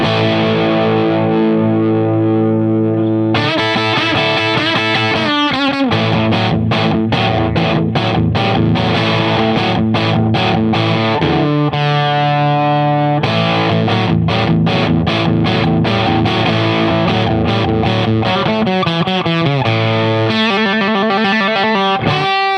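A cheap electric guitar played loud through heavy distortion, with sustained chords opening, then rapid, rhythmic chugging strums and riffs running continuously without any voice.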